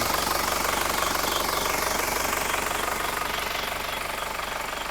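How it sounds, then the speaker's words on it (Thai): An Isuzu TFR pickup engine runs steadily in its open engine bay, heard close and loud as an even, continuous idle with a rapid regular ticking pulse throughout. "ชมห้องเครื่องกันต่อนะครับ เสียงเครื่องเนียนๆครับผม"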